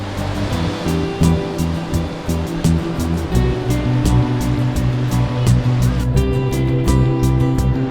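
Ocean surf at Daytona Beach rolls and washes steadily onto the shore, a continuous loud roar of breaking waves with no talking.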